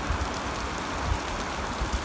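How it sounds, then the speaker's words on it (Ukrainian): Steady rain falls during a storm in a forest, a dense continuous hiss with low rumbling gusts, constant and fairly loud, with no one speaking. "Ох і буря піднялась. Дощ іде."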